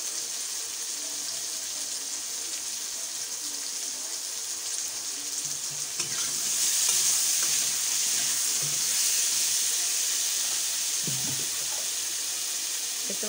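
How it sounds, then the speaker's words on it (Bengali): Potatoes fry in a pan before going into a meat curry, giving a steady soft sizzle that grows louder partway through, with a few faint clinks of stirring and no voices. "ভালো করে আলুটা কষে নেব মাংসর জন্য।"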